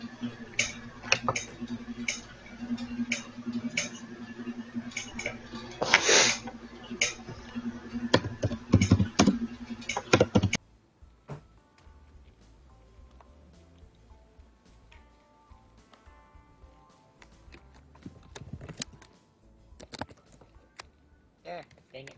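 Rapid keyboard typing clicks while playing the business simulation game Game Dev Tycoon, dense and close for about ten seconds, then thinning to sparse, quieter taps.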